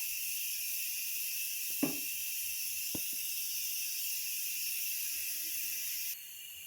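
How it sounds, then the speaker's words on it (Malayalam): Water comes to a boil in a covered pot for biryani, giving a steady bright hiss and seething throughout, broken by a couple of sharp clanks near the start. "അപ്പോൾ ഇതാ വെള്ളം തിളച്ച് വന്നിട്ടുണ്ട്"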